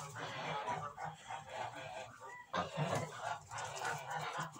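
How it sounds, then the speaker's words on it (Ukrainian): Geese on a farm, including a mature gander, calling in bursts of honking and cackling amid a busy, noisy flock, loud and close, with no talk. "Гусак переярний."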